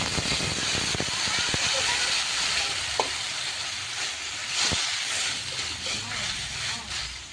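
Hot water poured into a pan of frying potatoes, a loud broadband hiss and sizzle running steadily throughout with faint clinks and stirring scrapes, close up.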